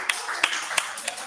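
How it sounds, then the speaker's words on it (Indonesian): A small group of students claps for a classmate during a middle school civics lesson. A few separate, fairly sharp claps come at a loose, irregular pace over a faint background hiss. "Tepuk tangan dulu buat teman kita."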